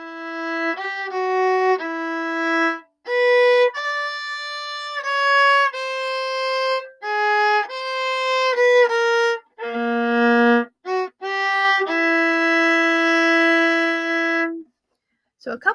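Cello plays a phrase of a theme from Harry Potter, beginning on a pickup. Clear sustained bowed notes rise and fall with short gaps between them, and the instrument sounds close and alone.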